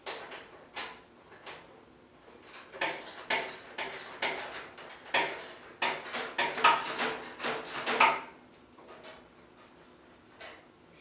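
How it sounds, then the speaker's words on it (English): A socket removes the 5/16 mounting screws from the front panel of a Maytag dryer, giving a series of close, fairly quiet clicks and ratcheting taps in irregular bursts with brief pauses between them. "remove the mounting screws that hold this front panel on to the machine"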